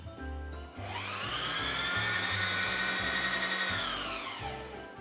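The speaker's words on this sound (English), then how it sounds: "turn on our machine, and then you can step on the pedal to start the winding" A Singer sewing machine winds its bobbin with a steady, close motor whir that rises after a short start, holds an even high hum for several seconds, then winds down at the end.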